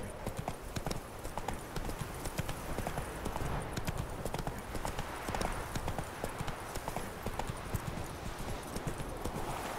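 A galloping horse in The Witcher 3 gives rapid, continuous hoofbeats at a brisk rhythm, fairly quiet and steady throughout, with no talk.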